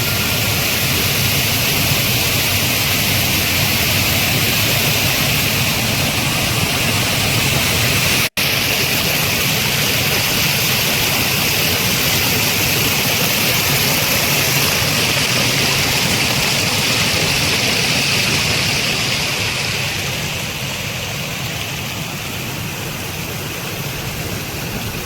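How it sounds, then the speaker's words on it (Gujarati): A village river flowing loud and fast, a dense continuous roar of rushing water that stays steady and close for the whole stretch and eases slightly near the end, with no one talking over it. "પાણીનો અવાજ એટલો આવી રહ્યો છે કે તમને મારો અવાજ કદાચ સંભળાય છે નહીં"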